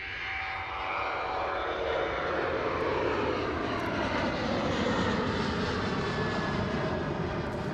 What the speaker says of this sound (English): Loud departure there from the Ryanair 73